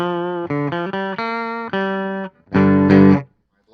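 Electric guitar with humbucker pickups playing a short phrase of distinct notes and then a strummed chord through a modulation pedal switched to bypass, a clean dry tone with brief silent gaps.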